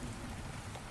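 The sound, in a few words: heavy rain in the video game Rainswept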